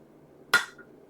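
A single sharp hammer blow strikes a hot axe head on the anvil during hand forging, a bright clang with a short ringing decay, followed by faint light taps in an otherwise quiet shop.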